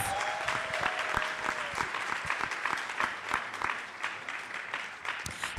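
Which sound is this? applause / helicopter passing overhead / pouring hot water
applause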